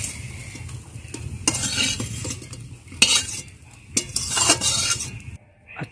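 Fried potato pakoras being lifted one by one from hot oil, with metal spoon and pan scrapes and clinks over a steady low sizzle, alone without talk.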